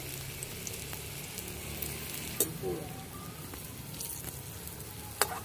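Mankochu (giant taro) pakoras deep-frying in oil, a steady close hiss of bubbling oil with a few soft clicks of a utensil against the pan.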